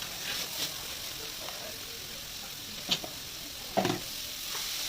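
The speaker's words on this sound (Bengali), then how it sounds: "এবারে এই কেটে রাখা চাল কুমড়োগুলো দিয়ে দেবো।" Chopped ash gourd stirred into cooked-down masala in a pan for an egg dish, with a low continuous sizzle broken by a couple of sharp spatula scrapes and clatters.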